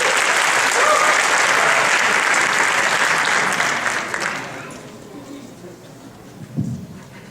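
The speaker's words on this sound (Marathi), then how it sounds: "एवढ्या गाण्याकरता प्रचंड टाळ्या." Loud, dense applause from a large audience at a live stage show, steady for about four seconds before thinning into scattered clapping with a brief thump near the end.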